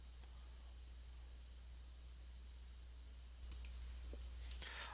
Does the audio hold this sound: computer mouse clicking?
yes